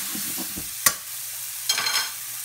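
Schnitzel sizzles in a frying pan after being flipped, a soft steady frying hiss under a sharp clack of a utensil and a brief scraping burst.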